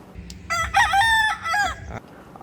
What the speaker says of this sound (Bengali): সকালে ঘুম ভাঙবে মোরগের ডাক আর পাখির কলকাকলিতে